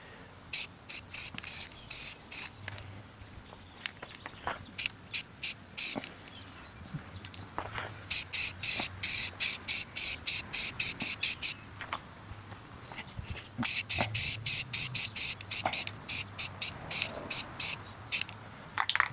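Rapid rhythmic bursts of spray paint hiss as a second, slightly thicker coat goes onto an alloy wheel from a 2011 Ford Fiesta, close and fairly quiet with short pauses between passes.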